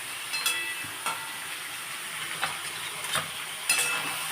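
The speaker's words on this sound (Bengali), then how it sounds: "আমি এই চাল কুমড়ো ডাল আর কুমড়ো দিয়ে নাড়ছি ফোড়ন দিয়ে।" Ash gourd and pumpkin pieces frying with tempering spices in a pan, a steady close sizzle broken by several sharp scrapes and clacks of a stirring spoon, no voices.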